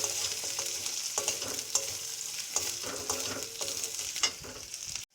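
Turmeric and spices frying in hot oil in a pan, a loud, dense, continuous sizzle and spatter with frequent stirring scrapes, close up and without talk.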